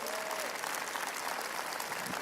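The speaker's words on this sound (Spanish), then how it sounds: "dale un aplauso más fuerte al Señor" A church congregation applauds loudly in praise, a dense, continuous wash of clapping from many hands filling the whole moment, with faint crowd voices mixed underneath.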